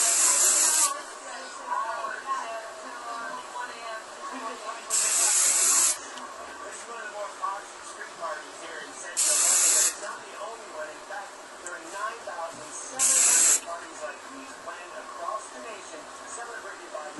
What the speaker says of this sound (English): I'm just going to spray. And I'm going to spray a decently thick coat